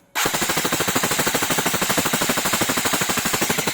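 An EC 644 MK18 airsoft electric rifle fires full auto in one continuous rapid rattle lasting over three seconds, loud and close, each shot pulsing evenly with no talking.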